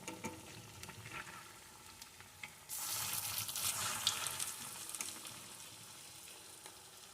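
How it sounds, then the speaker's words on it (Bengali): Gokul pitha, a milk-kheer filled sweet, fries in a pan and is turned from side to side; a low sizzle swells into a louder, fuller crackle partway through, with occasional light scraping. "এইভাবে আস্তে আস্তে এপিট ওপিট করে সুন্দর করে ভেজে নেব দেখুন"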